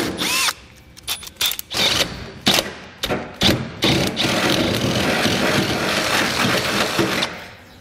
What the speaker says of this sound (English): I'm gonna come back with an 11/16 drill bit and enlarge them to the final size